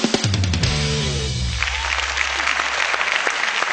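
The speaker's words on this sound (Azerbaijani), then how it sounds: "Alqışlayırıq" Audience applause on a Baku show stage breaks out at full strength, a dense steady clatter of many hands that holds loud throughout, with music fading out beneath it early on.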